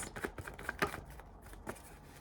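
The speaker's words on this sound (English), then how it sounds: "one more shuffle, please" Tarot cards are shuffled softly by hand, a quick series of faint papery riffles and taps spread over a couple of seconds with no talk.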